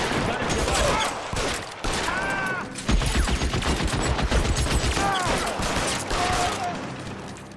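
Covering fire in L.A. Noire, rapid bursts of shots cracking in quick succession with heavier booms, loud and near, mixed with voices speaking over the shooting.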